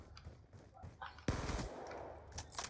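M27 gunfire in Black Ops 2 multiplayer Gun Game, heard as a dense, fast rattle of shots starting abruptly and continuing under faint background game noise.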